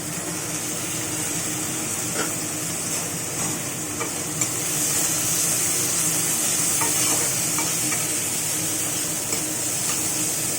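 Mixed dal frying in oil in a pan while being stirred, a steady close sizzle with bright hissing and occasional scraping of the spoon, continuous and alone.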